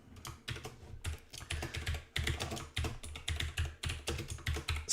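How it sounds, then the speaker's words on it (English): Rapid clacking on a computer keyboard, close and steady, with uneven bursts of keystrokes and brief pauses, heard alone without any voices. "Sorry about all the typing,"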